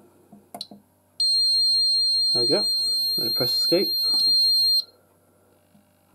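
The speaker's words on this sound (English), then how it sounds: "And then the buzzer." The buzzer test on an Advanced MX4100 fire alarm panel gives a steady, piercing electronic tone for about three and a half seconds. Someone talks over it, and short clicks come before and after.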